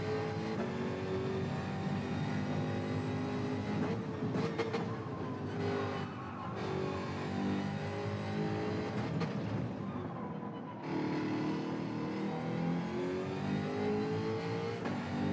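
A race car's engine revs hard in a racing video game, climbing steadily through the gears with brief dips at each shift, a continuous close, droning whine that lasts around fifteen seconds without talk.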